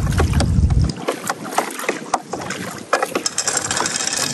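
A motorized fishing boat rumbles low and close for about a second, after which the sound breaks into scattered knocks, clicks and water noise.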